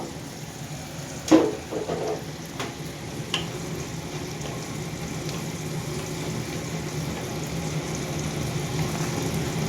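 Boiled jackfruit sautés in a hot pan, a soft continuous sizzle with a few spoon knocks and scrapes near the start, close and fairly quiet, without speech.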